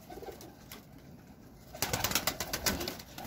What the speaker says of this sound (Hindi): ए बटेरा कबूतर